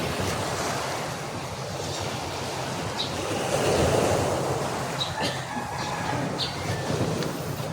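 Sea waves wash continuously onto a beach at Lobo, Batangas, a broad, steady surf roar with a swell of louder breaking water midway, mixed with wind noise and no talk.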